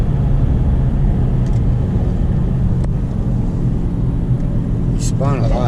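A 5.7 Hemi V8 with a muffler delete, cold air intake and tune roars loudly and continuously through a hard launch on an eighth-mile pull, a dense low rumble with faint tire chirps near the end.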